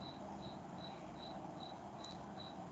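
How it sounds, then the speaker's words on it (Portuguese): A single cricket chirps steadily in the background, evenly spaced short trills repeating about every half second over a quiet, hissy room. "agora é só o grilo no fundo"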